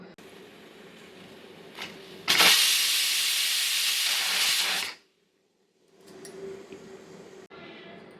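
A loud, steady hiss of steam from a pressure cooker whistle, cooking black chana, bursts out and runs for a few seconds, then cuts off abruptly, leaving low background hum.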